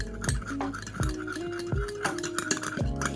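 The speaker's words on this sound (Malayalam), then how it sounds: "നന്നായിട്ട് മിക്സ് ചെയ്ത് കൊടുക്കുക." A spoon stirring an aloe vera gel hair mixture in a bowl, repeated scraping strokes with clinks against the bowl at roughly half-second intervals, close and clear with no talking.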